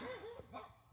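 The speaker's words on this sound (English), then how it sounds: "I apologize for my dog" A dog barks and yips in a short, close burst of a few quick, loud barks with a whimpering edge, heard alone.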